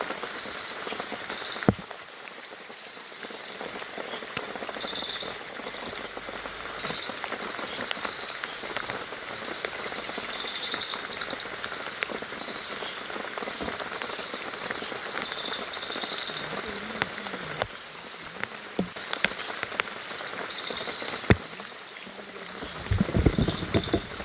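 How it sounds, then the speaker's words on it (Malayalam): Heavy rain pours steadily through a forest, a dense close patter on leaves and surfaces with occasional louder drops and faint knocks, no voices. "നല്ല മഴയാ."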